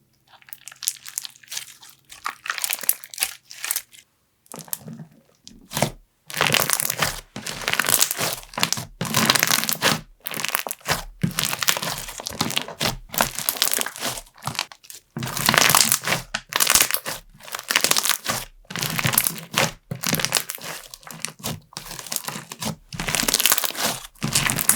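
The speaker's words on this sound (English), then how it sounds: "I absolutely love this Crunch Bomb slime" Crunch Bomb slime squeezed and crunched by hand, giving repeated loud crackling and crinkling bursts in an irregular rhythm, close-up and alone after a quieter opening few seconds.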